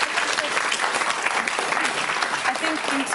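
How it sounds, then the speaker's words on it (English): Studio audience on the Trisha Goddard talk show breaks into steady applause, a dense wash of clapping that stays fairly even throughout, with a faint voice audible underneath. "I want to give you a little clap"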